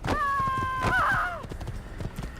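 A horse in the video game Assassin's Creed gives a drawn-out whinny, followed by a few soft hoof clops; the call is loud and near, then the steps trail off quietly.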